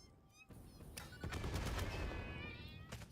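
A video game cat meows in short high wavering cries among bursts of in-game gunfire, layered over a busy mixed game soundscape at moderate level.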